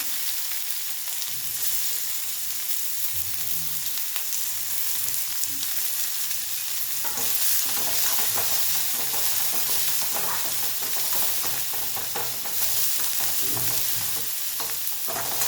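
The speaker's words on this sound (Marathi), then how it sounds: "थोडासा हिंग कांदा परतून घेऊ" Onion sautés with asafoetida and cumin in a pan, giving a steady, soft sizzle with occasional stirring scrapes that grow busier halfway through.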